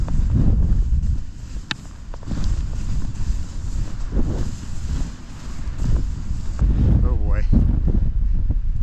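Strong wind buffets the microphone on a snowy ski slope at Snowbird, a steady roaring gust that swells and dips without pause, with a person briefly exclaiming over it.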